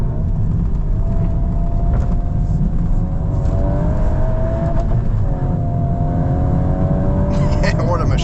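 A 2026 Volkswagen Golf R accelerates, heard from inside as a loud, steady engine and road roar with rising tones, while someone talks over it.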